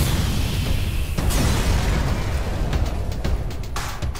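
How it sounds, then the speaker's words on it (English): A spaceship blowing apart in the video game FTL: Faster Than Light, a steady, loud roar of explosions with sharp bursts near the start and again toward the end, alone with no talk. "One last explosion marks your fate as your ship is torn apart."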